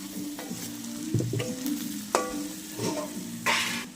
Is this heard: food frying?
yes